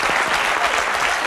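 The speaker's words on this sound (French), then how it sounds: "Ah oui, on peut l'applaudir" A studio audience applauds, a dense, loud burst of clapping from many hands that carries steadily through the whole moment.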